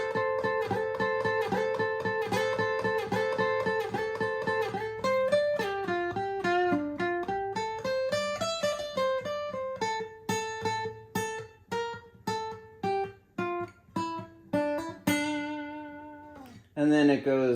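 Acoustic guitar plays a section of the unplugged version of a song: clear plucked notes and bends in a melodic run, ending with short staccato notes and a final strummed chord, played alone.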